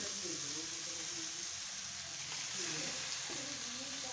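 Garlic paste frying in a pan over onions, a steady bright sizzle that holds for several seconds with faint stirring scrapes underneath.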